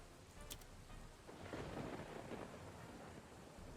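Rain pours steadily in The Oregon Trail video game, with a brief crack of thunder near the start and a swelling rumble through the middle, no voices present.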